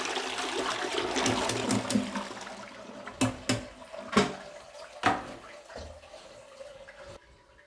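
A cleaned toilet bowl is flushed, a rushing swirl of water that fades into gurgles and a few sharp knocks and drips, heard close up and alone.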